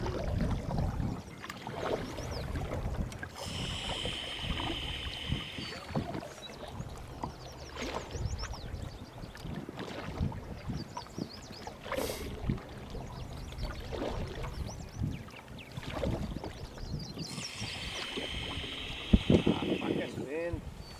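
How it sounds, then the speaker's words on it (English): Gusts of wind buffet an open boat on the South Saskatchewan River, a steady broad rush that swells and fades, with people talking over it. "Fucking gust of wind just hits you."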